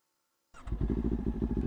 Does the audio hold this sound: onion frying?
no